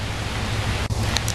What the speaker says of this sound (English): We're getting a shower, so again, it's been very, very dry so far this summer, so we can use the rain.